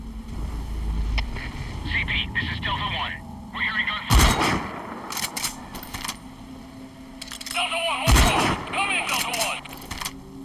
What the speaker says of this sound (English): We've got unidentified gunfire.